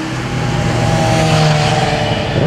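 A loud car engine roars steadily and close by at night, with a sustained revving tone that shifts in pitch near the end.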